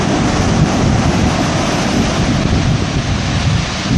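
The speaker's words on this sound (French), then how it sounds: "Des belles vagues en tout cas." Powerful ocean swell breaks along the shore at Port Ouest, Réunion, a loud, constant roar of surf mixed with wind buffeting the microphone, with no talk.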